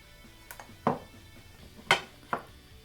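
Washed chana dal goes into a pressure cooker with a few sharp metallic clinks and clatters, three distinct knocks of a utensil against the pot separated by quiet pauses, close up.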